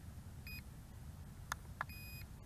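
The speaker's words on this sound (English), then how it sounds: "I need to hit the return to home because it's beeping" A Snaptain SP510 GPS drone gives short electronic beeps while calling for return to home: two clear tonal bleeps separated by a pause, with a couple of small clicks in between, over a quiet low background hum.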